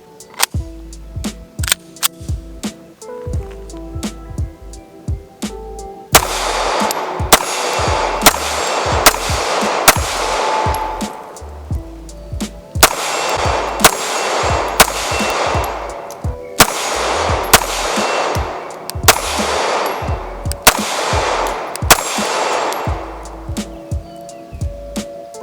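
A Kriss SPHINX SDP compact 9mm pistol fires in rapid strings of sharp, loud cracks, several distinct bursts of shots with short pauses between, close and echoing, with no talking.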